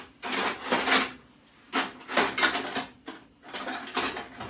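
Metal cutlery and a spoon rattle as a kitchen drawer is searched while preparing a vegan tiramisù, three separate bursts of clinking and rummaging with quiet gaps between them.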